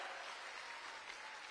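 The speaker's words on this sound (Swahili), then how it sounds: "Can you, all of us, give them a makofi kwa tafadhali?" An audience at a Nairobi Aviation College graduation ceremony claps in sustained, even applause, a dense wash of many hands heard at a distance and fairly faint.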